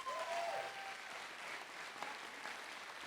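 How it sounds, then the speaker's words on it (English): A crowd applauding steadily at a Seattle International Film Festival opening, a dense wash of clapping that holds at an even level for a few seconds. "Give them all a round of applause."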